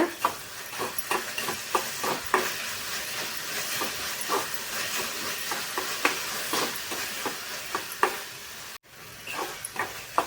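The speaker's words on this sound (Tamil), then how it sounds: "முந்திரி பாதாம் சேர்த்துட்டு நல்லா கலந்து விட்டுக்கோங்க" Apple kheer with cashews and almonds stirred in a pot, a steady run of soft scraping strokes over a hissing background, moderately close with no talk.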